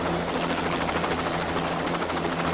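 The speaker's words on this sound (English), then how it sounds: "This private jet Ranger helicopter, piloted by a Vietnam veteran" A private Jet Ranger helicopter flies close by, its rotor giving a loud, steady, continuous chop with a constant engine drone and no voices.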